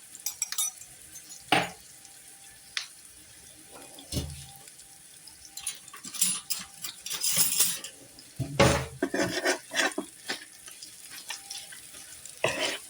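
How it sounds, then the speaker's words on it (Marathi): Mashed potato and turmeric being mixed in a pan for kachori filling: irregular spoon scrapes and clinks against metal, sparse at first and then busier and denser, close and moderately loud with no talking. "मस्त असं मिक्स करून घेऊया"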